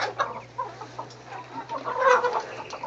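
A flock of young chickens clucks and murmurs close by, with soft overlapping calls and a louder burst of clucking near the end. No one speaks.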